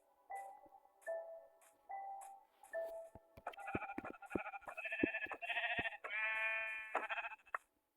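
Minecraft sheep bleat several times in a row, short wavering cries spaced about a second apart, followed by a busier stretch of clicking game sounds and layered tones.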